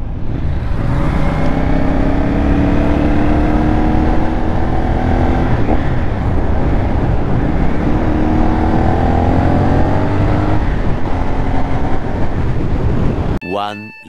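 Motorcycle engine droning steadily while riding on the road, loud and close with shifting pitch as it revs, wind rush mixed in, cutting off abruptly at the end.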